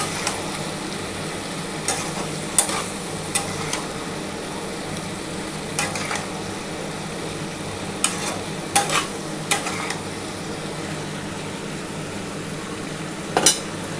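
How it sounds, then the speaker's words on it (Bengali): Small mourala fish, long beans and potatoes with a little water are stirred in a pan, spatula scrapes and clacks recurring irregularly over a low, steady sizzle, close and fairly clear. "এবার এই মোরলা মাছটার সাথে বরবটি আলুটা ভালোভাবে নাড়াচাড়া করে নিতে হবে।"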